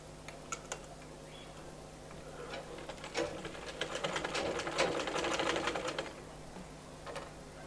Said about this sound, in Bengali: এখন নিচের দিকে সেলাইটা করব